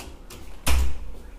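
A hotel room door is closed with a single solid thud, preceded by a faint softer knock, set against a low room hum.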